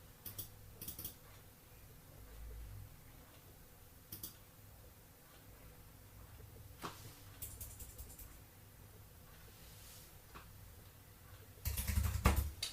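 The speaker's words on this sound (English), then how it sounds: "Type in some random letters." Faint, sparse key taps and clicks come from a computer keyboard as random letters are entered, scattered in small clusters across a quiet stretch, ending in a louder flurry of keystrokes.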